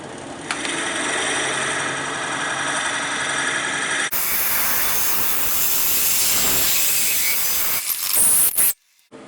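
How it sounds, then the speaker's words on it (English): A drill bores a 1 3/8-inch hole in wood on a lathe turning at about 400 RPM, a steady loud grinding whir that shifts to a rougher cutting tone midway, then stops abruptly near the end. "Time to drill a hole to fit the pipe insert, which will fit over the tool post."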